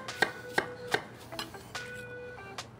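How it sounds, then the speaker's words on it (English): A knife minces red onion on a cutting board in a few sharp, evenly spaced chops, then several lighter, irregular taps, close and clear with no talking. "I have a little bit of red onion that I'm gonna mince."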